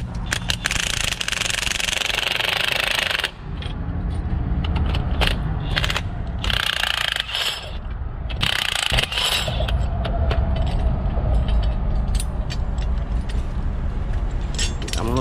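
Ratcheting spring compressor tightening a lowering spring for a Mercedes-Benz CLA250, loud rapid metallic clicking and grinding at first, then scattered sharp clanks and ratchet bursts with mechanical rattling throughout.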